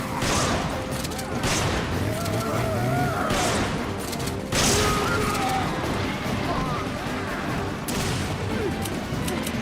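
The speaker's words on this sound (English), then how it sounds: "time to use the shotgun once again" Repeated heavy shotgun blasts and explosive booms in Resident Evil 5 during a desperate escape, loud and dense, spaced a few seconds apart over constant combat noise with a voice talking.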